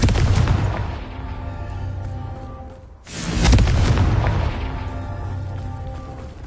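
A Confringo fire spell detonates in Hogwarts Legacy, a heavy, booming blast with rumbling low-end decay, followed by a second loud explosion midway that rolls off slowly; no talking.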